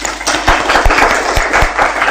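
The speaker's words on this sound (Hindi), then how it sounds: "धन्यवाद दीजिए तालियां बजाते हुए।" Church congregation clapping hands in thanks during a Hindi-language service, a close, steady patter of many hands with a few sharper individual claps standing out.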